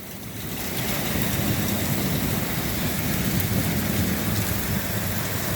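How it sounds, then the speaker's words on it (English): Heavy rain pouring down during a March afternoon storm with hail, a loud, dense, steady hiss that swells in within the first second and then holds constant with no talk. "And now the rain's coming down hard."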